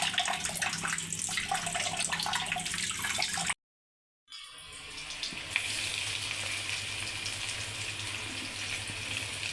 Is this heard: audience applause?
no